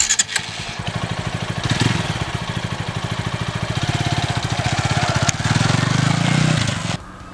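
A TVS Apache 200 motorcycle engine starts and pulls away into a ride, with a steady close thumping exhaust beat that swells briefly and then cuts off at the end.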